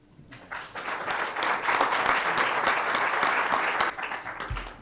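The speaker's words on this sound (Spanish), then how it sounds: "Un aplauso muy merecido." An audience at a Spanish-language conference session breaks into dense, sustained applause that starts fast, holds steady for several seconds and fades slightly at the end.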